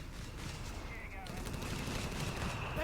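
Mortar fire and gunfire from a competitive strategy video game match, a dense continuous barrage of bursts and thuds beneath a commentator's steady talk.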